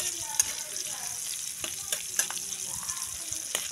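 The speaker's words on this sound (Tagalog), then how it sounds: "atin lang po siyang igisa, yung ating bawang, sibuyas, at ang ating luya" Garlic, onion and ginger sauté in margarine in a pan for chicken curry: a steady, close frying hiss runs throughout, with a few sharp crackles and spatters and no voices.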